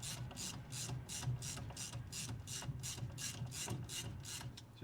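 Steady ratcheting while screws are tightened evenly on a VIAIR 444C air compressor being reassembled for a 1962 Chevy Impala air suspension, a fast regular clicking that repeats about twice a second, close and continuous with no talking.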